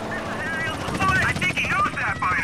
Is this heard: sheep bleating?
no